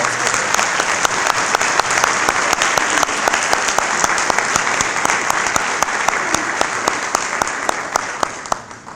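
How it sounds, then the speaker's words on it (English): Loud, sustained applause from a crowd at a business and community partners reception, with many hands clapping in a dense wash and sharp individual claps popping through before it tapers off at the end. "Let's have a round of applause."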